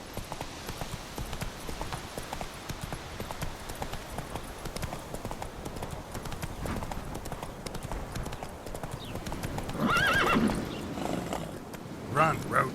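A horse gallops in the video game The Witcher 3 with continuous rapid hoofbeats, close and steady throughout, while a voice speaks over it near the end.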